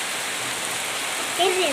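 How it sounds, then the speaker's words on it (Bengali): Sudden rain falls steadily over a village, a dense even hiss of drops that fills the whole stretch, with a faint voice or bird-like tone rising briefly near the end. "বৃষ্টি পড়ছে হঠাৎ করে"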